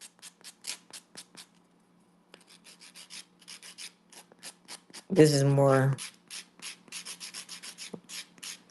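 Rhythmic rasping strokes of sanding wood repeat in steady back-and-forth bursts, briefly interrupted by a short spoken phrase.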